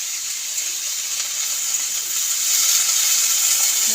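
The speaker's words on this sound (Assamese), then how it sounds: "এইভাগে মই অলপ সময় ভাজিম।" Food frying in a pan in a home kitchen, a steady broad hiss and sizzle that swells slightly louder midway, with no talking.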